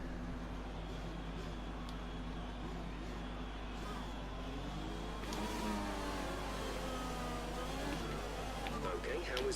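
Formula 1 cars in the F1 2020 racing game roll through a formation lap at Austria, a steady layered engine drone with revs climbing and surging partway through, loud and continuous.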